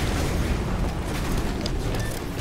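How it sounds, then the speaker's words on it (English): Arc grenades go off among enemy groups in the shooter game Titanfall, producing a dense, loud, crackling blast with booming low end that stays sustained, with a couple of thin electronic tones near the end. "we're going to throw some random arc grenades again, just into the packs"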